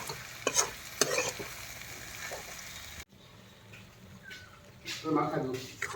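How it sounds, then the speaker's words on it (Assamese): Pork seasoned with spices, turmeric and salt is stirred and dry-fried in a pan, with scraping strokes over a steady sizzle. Close stirring bursts come early, then a quieter stretch, then renewed scraping and frying toward the end. "এই মাংসটো পূৰা হিলাই আছোঁ, ড্ৰাই ফ্ৰাই হ'ব।"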